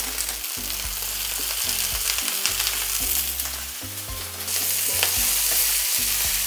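Cabbage stir-fries with fish sauce in a very hot pan, sizzling loudly and continuously while it is stirred, with rhythmic scraping strokes throughout and no talking.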